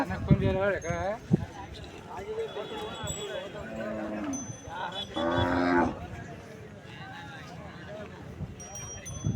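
Cattle and bulls moo loudly several times over a busy crowd of chatter, with people talking nearby and general outdoor noise at the weekly Maddur bull market.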